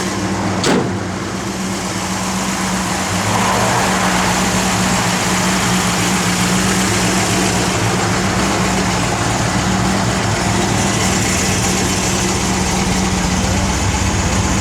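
Engine of a 1965 Ford Mustang fitted with an Edelbrock kit and running on pump gas, idling steadily and loudly with a deep continuous rumble close by, no voices.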